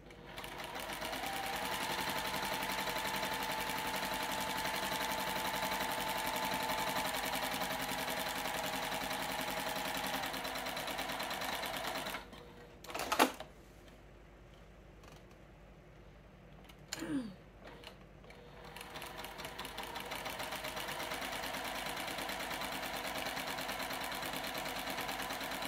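A sewing machine quilting a Christmas stocking runs in a steady, loud whir for about twelve seconds, pauses with a couple of brief clunks, then resumes its continuous hum to the end.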